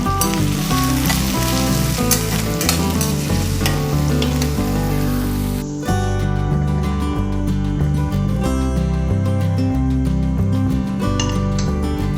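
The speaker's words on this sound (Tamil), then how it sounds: "வெங்காயம் நல்லா வதங்கிடுச்சு." Chopped onions sautéing in a pan for a Kerala-style quail dish give a steady, close sizzle and frying crackle, with occasional stirring and the clink of a utensil against the pan throughout.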